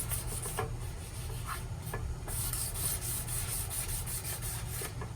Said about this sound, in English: It doesn't need a lot of sanding.